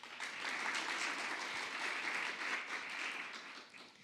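An audience applauds a thesis presenter at a three-minute thesis event, with steady, fairly faint clapping that holds for several seconds and then tapers off at the end.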